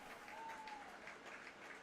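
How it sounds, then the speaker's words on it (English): Baseball fans at Shirley Povich Field clapping in rhythm ahead of a possible final pitch in a summer-league game, the clapping faint and distant. "The fans clapping down what could be the final pitch of the evening."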